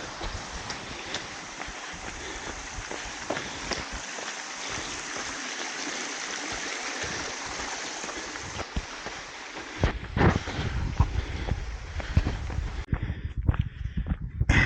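Steady rushing water from a muddy river crossing on a Vitosha mountain trail, a constant broadband flow with scattered splashes and knocks near the end, no talking.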